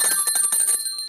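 A small hand bell rung rapidly and close by, giving a bright, fast jangle of repeated metallic rings that fade out after about a second.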